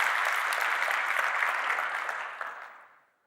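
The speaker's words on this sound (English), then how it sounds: "let's do a round of applause for Andrew," A conference audience gives a round of applause, with dense, sustained clapping that holds steady and then tapers off to silence.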